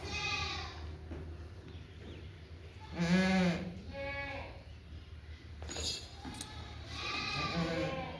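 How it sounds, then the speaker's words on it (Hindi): Goats on a goat farm bleat a few times, one loud call near the middle and softer ones after it, over quiet background noise and faint talking. "बकरी"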